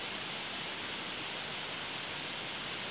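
Rushing water from a natural waterfall at Wentworth Falls in Australia's mountains, a steady broadband roar that continues unbroken and evenly throughout, with no voices.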